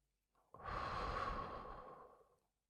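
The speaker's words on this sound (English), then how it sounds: "Take another deep breath in and another breath out." A single slow, deep breath is drawn in and let out close to the microphone, a soft airy rush that swells and fades over about two seconds in a quiet relaxation setting.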